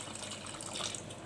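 Hot water poured onto uncooked rice in a pot for cooking, a steady, soft splashing and gushing stream, close and fairly faint, with no voices.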